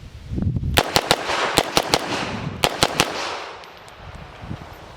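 An HK MP5 pistol fitted with an SB Tactical brace fires a string of sharp, loud shots in quick pairs and singles, with echoing tails rolling off outdoors between them.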